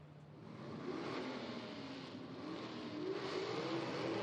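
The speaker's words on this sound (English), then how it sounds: "Nothing beats the sound of an old modified car here for Mike Price." A modified Camaro drag car at an IHRA Outlaw Nitro Series event sits on the starting line, its engine revving in a steady, building roar that swells toward the end, heard from a moderate distance with broad crowd and track noise.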